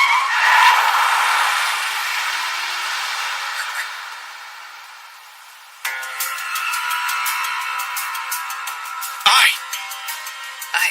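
A car skids in an anime scene, a long drawn-out tire screech that fades over several seconds, followed by a busier burst of bright clattering and sharp ringing sounds.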